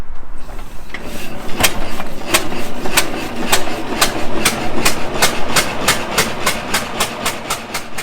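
Engine of a 1906 Maxwell car being cranked to start, producing a loud, rapid, regular train of sharp clicks or pops that speeds up slightly over eight seconds above a rumbling background.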